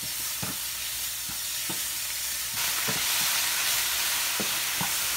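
Salmon patties fry in butter in a pan with a constant crackling sizzle, and a utensil scrapes and taps the pan now and then, a bit louder toward the end.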